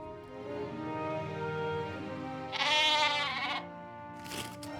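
Sheep bleating from Fridolin, a character in the video game Book of Unwritten Tales 2, a wavering bleat rising out of a steady ambient game background, fairly faint, with a second brief call near the end.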